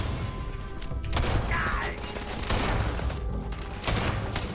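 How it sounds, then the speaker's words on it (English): Gunfire from a slow-firing gun in the video game Starfield, a few heavy shots spaced apart with booming, thudding reports amid game noise and no talk. "I like the like feeling of how low the firing rate in this gun is."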